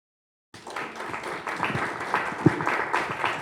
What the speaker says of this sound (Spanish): Les pido por favor que puedan recibirlo con un fuerte aplauso.